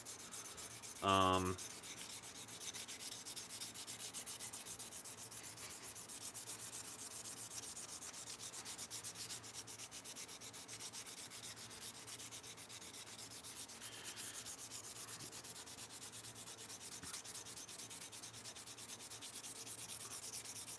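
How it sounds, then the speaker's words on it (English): Steady, faint rubbing of sandpaper on G10 fiberglass laminate continues throughout, with a brief sharp knock near the start. "G10 sands wonderfully."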